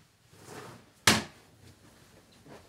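A door in a care room opens with one sharp knock-like clunk near the middle, following soft shuffling and cleanup sounds at low level, with no talking.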